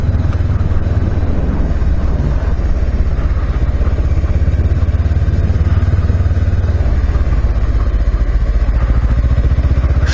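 Honda CB500X motorcycle engine lugs along in third gear on a slippery, little-used dirt track, a steady, loud low throb with a chattering pulse and wind rush throughout, no talk.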